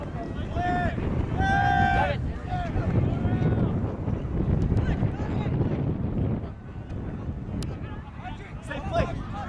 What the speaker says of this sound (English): Little wind going from left to right.